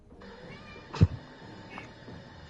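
A house cat lets out a single short meow, close to the microphone, over a low background hum with faint household noise.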